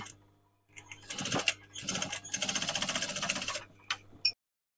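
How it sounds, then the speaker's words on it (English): A sewing machine stitches across the end of an unlined curtain with header tape, running in quick rhythmic bursts for about three seconds, close and clear, then a couple of short taps before stopping. "So I'm coming down to the end and stitching that."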